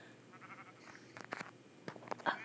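Sheep bleating inside a video game, a few short bleats rising briefly over a quiet, steady game background.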